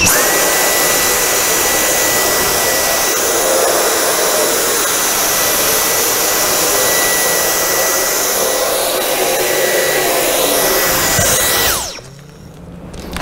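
A Dyson V10 cordless stick vacuum cleaner runs with a loud, steady high-pitched whine and airflow roar fitted with an attachment, then abruptly cuts off near the end, leaving quiet.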